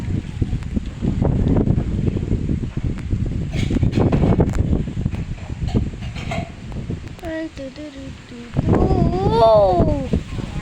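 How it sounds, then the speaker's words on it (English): Strong typhoon wind from Typhoon Bavi, gusting around 38 mph, roars and buffets the microphone in loud surges. A person talks over it. "it's very windy"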